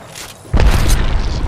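A grenade goes off in a video game as a single sudden, loud, close boom with a deep low rumble after a quieter lead-in, then a short fading tail.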